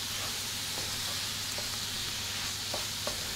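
Ground meat seasoned with chili powder and salt is browned in a skillet, giving a dense, continuous sizzle with occasional scraping spatula strokes against the pan bottom, close and steady.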